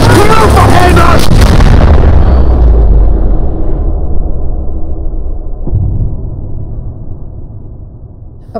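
A loud burst of gunfire up close in a war film, then a long booming echo that rumbles and slowly fades away.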